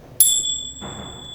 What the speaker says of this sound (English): Listen to the sound of the bell as it fades away.